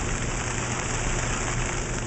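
Steady rain falls on garden surfaces, a dense, continuous patter and hiss with no breaks, close and fairly loud throughout the short stretch.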